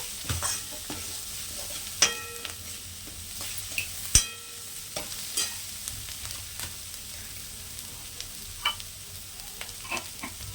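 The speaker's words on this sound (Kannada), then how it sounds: "ಇದು ಸ್ವಲ್ಪ ಕೆಂಪು ಫ್ರೈ ಮಾಡ್ಕೋಬೇಕು ಈರುಳ್ಳಿನ ಫ್ರೆಂಡ್ಸ್ ನೋಡಿ ಈ ರೀತಿ ಫ್ರೈ ಆಗಬೇಕು" Onions frying in a pan for beetroot palya, a steady close sizzle broken by scraping stir strokes and a few sharp metallic clinks of a spoon against the pan, with no talking.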